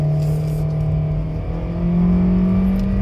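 A 2020 Kia Soul EX accelerates, its engine holding a steady, fairly loud drone with a low hum throughout and no talking over it.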